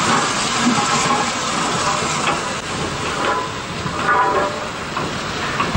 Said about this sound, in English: 47326 arrives to shunt an up express with a 6-wheel milk tank on the closest end